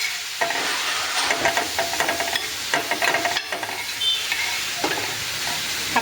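Fenugreek chili thecha sautéing in oil, a steady close sizzle broken by repeated scraping stirs that come in uneven bursts throughout.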